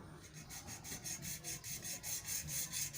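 Hand sawing of a wooden piece for a homemade deer call, steady repeated back-and-forth strokes about five per second, close and moderately loud, with no talk.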